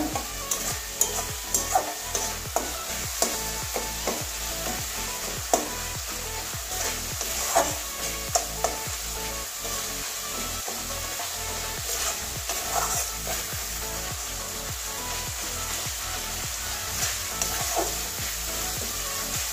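A soybean, cabbage and potato curry sizzles steadily in the pan while being stir-fried, with close, repeated scraping knocks of the spoon running through the constant hiss and no talking.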